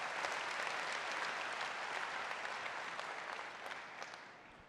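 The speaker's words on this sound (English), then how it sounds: "Give your hands a big round of applause." A huge keynote crowd of some twenty thousand at a ServiceNow Knowledge conference gives a dense, roaring round of applause that holds steady and then begins to taper.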